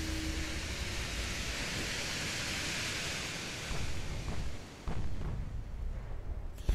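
Naval shells fire and strike in the warship game Ultimate Admiral Dreadnoughts, heard as a steady loud rumbling roar with sharper booming impacts toward the end, no talking.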